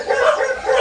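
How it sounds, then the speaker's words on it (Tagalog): A dog barks in a short burst, close and fairly loud, in a seaside area where cobras are said to roam. "Pero dito po siya lagi kami tinatahulan. Yung aso ko."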